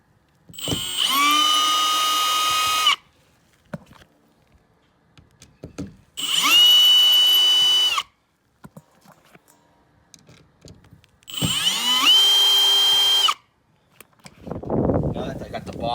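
Power drill driving screws into storm door hinges, three loud whirring bursts of about two seconds each with quiet gaps between, followed by brief handling clatter.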